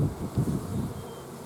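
Honeybees and a heavy crowd of drones buzz steadily inside an open hive, a close, continuous low drone with slight swells in loudness throughout.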